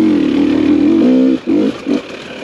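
Close and loud, a TPI two-stroke motorcycle engine holds a steady buzzing rev under heavy throttle, then cuts off and blips twice in short bursts.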